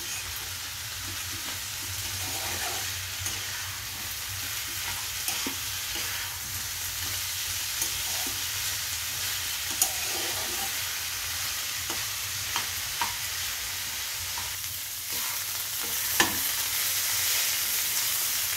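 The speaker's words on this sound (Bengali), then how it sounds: "ভালো করে কষানো হয়ে গিয়েছে" Grated radish curry for a fish-head mulo ghonto is sautéed in a pan, giving a steady sizzle with frequent scraping and stirring strokes throughout and no talking.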